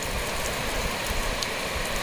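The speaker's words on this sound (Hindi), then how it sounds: "आज कई दिन के बाद बारिश हो रही है, अच्छी खासी हो रही है।" Heavy rain pours steadily during a monsoon downpour near Manikoot mountain, a dense continuous hiss with no voices over it.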